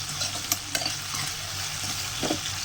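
Okra sautéing in oil in a pan, a steady close sizzle broken by a few sharp clicks of the spatula against the metal as it is stirred.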